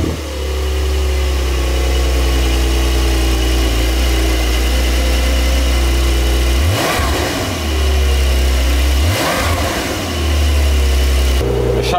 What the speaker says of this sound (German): Ihr wollt bestimmt eine kleine Kostprobe vom Sound hören. Ich würde sagen, ich starte mal das Fahrzeug.